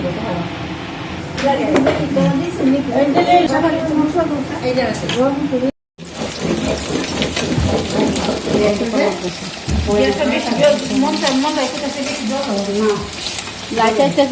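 Pieces of chitol fish fry in a pan with a continuous, loud sizzle and crackle, broken by one brief cut, while people talk over it.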